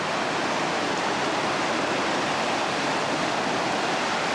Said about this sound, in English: Down the river.